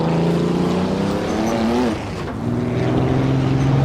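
A 1930s German Grand Prix race car engine in Assetto Corsa on the 1937 Donington circuit, a loud, close, droning roar that eases briefly off through a hairpin and then climbs again under throttle.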